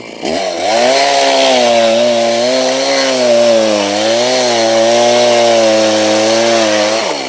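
A loud chainsaw cutting firewood runs close by, its engine droning steadily with slight rises and falls in pitch as it bites into wood.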